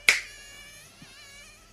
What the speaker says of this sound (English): are you snapping your fingers?